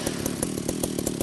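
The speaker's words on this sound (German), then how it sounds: "Was brauche ich denn da? Ja, die Säge." A power saw cuts through pipes in the video game Ship Graveyard Simulator, giving a steady loud buzzing drone with a regular pulsing rhythm, heard alone at close range.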